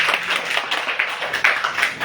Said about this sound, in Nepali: एकचोटि जोरदार तालीले सम्मान गर्नु